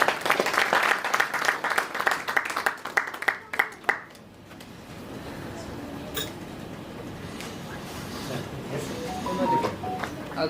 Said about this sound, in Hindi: प्लीज एक बार जोरदार तालियां हो जाए।